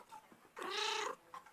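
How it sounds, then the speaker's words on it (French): A single drawn-out cat meow rises loud and close for about half a second in a quiet room, with faint murmurs before and after. "Donc là, vous entendez mon chat."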